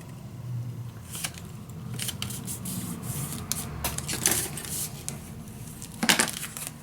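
Scissors trimming a millimetre off a sheet of paper for a handmade Sherlock Holmes secret storage box, with a series of close, crisp snips and rustles at uneven intervals.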